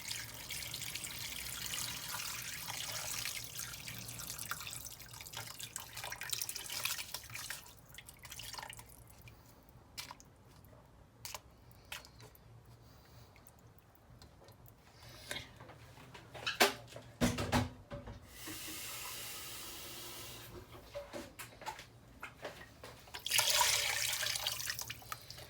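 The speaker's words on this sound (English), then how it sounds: "Now the rest of it, you add water till it covers it." Water runs and drips into a pot of beef being cooked, trickling in uneven bursts with quieter pauses and a louder splash of pouring toward the end.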